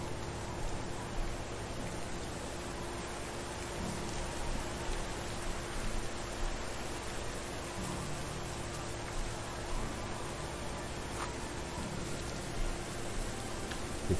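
Rain falls steadily in Medieval Dynasty as a dense, even patter and hiss that stays constant and fairly loud throughout, with no voices.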